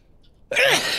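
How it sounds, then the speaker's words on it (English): One loud sneeze bursts out suddenly after a near-silent half second, close to the microphone, its breathy hiss lingering to the end. "I don't know why I'm suddenly sneezing all over the place."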